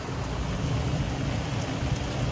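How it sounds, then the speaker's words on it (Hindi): Steady rain falls in a continuous, even hiss with a low rumbling undertone, close and constant throughout, with no voices. "इतनी बढ़िया बारिश होने लग गई है"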